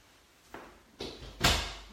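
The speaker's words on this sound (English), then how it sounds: "I think I got that door locked securely now" A door is pushed shut and locked indoors: three quick rising knocks and clunks, the last and loudest a firm latch, heard alone with low room noise.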